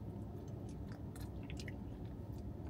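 Tender Jamaican oxtail is bitten and chewed close up, with soft wet squishing and faint crunches over a steady low rumble of room noise.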